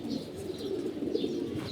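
Old-breed racing pigeons coo in a continuous low, close murmur, with a few higher chirps rising above it now and then and no talking.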